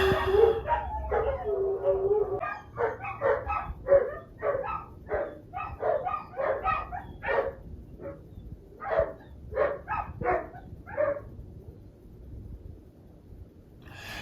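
A pack of dogs lets out a burst of overlapping howls that fades into scattered barks and yips, each spaced a little further apart, before the noise trails off into near quiet.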